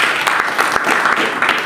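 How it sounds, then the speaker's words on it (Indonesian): A church congregation at a prayer and fasting gathering claps together in a lively, uneven burst of applause, close and sustained, with individual claps standing out. "Berikan tepuk tangan buat kita."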